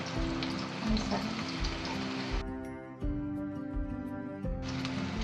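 Raw banana pieces frying in a pan produce a soft, even sizzle that continues throughout. It is fairly quiet, with steady tonal background sounds underneath and no speech.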